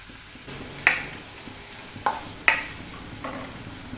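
Chopped onions sauté quietly in salted butter with a faint, steady sizzle, broken by four brief scraping clacks as a spoon stirs the pan.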